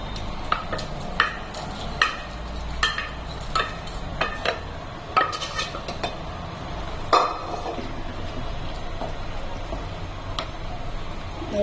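Chunks of mutton go into a pot of Chettinad-style gravy, giving a steady low simmer under a series of sharp clinks and taps of a spoon and metal lid on the pot, with no talking.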